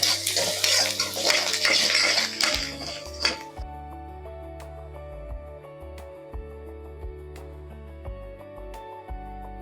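Onions browning in oil in a pan for a chickpea gravy, a loud busy sizzle with spoon scraping for the first few seconds, then a quieter simmer as a steady tonal hum takes over.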